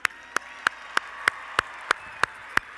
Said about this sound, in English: Let's give them one more huge round of applause.